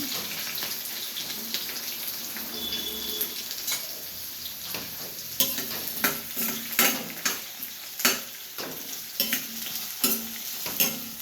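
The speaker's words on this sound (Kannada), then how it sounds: "ಈಗ ತುಂಡು ಮಾಡಿಟ್ಕೊಂಡ ಈರುಳ್ಳಿಯನ್ನು ಈಗ ಎಣ್ಣೆಗೆ ಹಾಕ್ಕೊಳ್ತೇನೆ." Chopped onions, with garlic and ginger close by, are fried in hot oil for a mushroom masala curry, making a steady near sizzle. Stirring scrapes and clatters sound sharply through it, and no one speaks.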